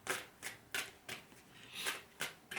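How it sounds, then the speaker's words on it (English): A deck of cards shuffled by hand during a reading, a quick run of about eight crisp riffling bursts in steady rhythm, close and fairly quiet with no voices. "I'm just going to keep shuffling until I get one"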